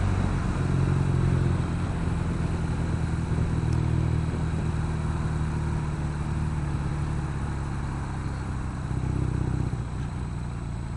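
A 2016 BMW R nineT motorcycle engine runs steadily on a test ride, a constant mid-low drone with a slight swell in revs near the end, heard alone without talk.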